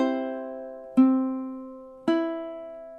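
A ukulele plays three plucked notes spaced about a second apart, each ringing out clearly and fading; it is the measure 33 outro phrase of a song, played alone and close.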